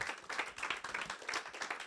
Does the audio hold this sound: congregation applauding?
yes